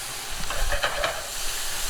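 Butter melting in a hot pan gives a steady, close sizzle and hiss with faint crackling pops, continuous and fairly loud for the whole two seconds.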